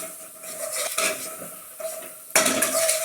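Thick chicken madras paste is stirred vigorously in a pan, with a close metal spoon scraping and clinking against the pan and a faint sizzle under it.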